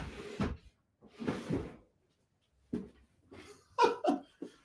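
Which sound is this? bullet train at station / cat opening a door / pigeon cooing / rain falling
cat opening a door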